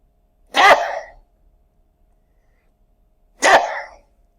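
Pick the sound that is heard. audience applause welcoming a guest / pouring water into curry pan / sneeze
sneeze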